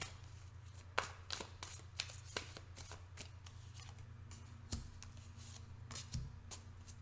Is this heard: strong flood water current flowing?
no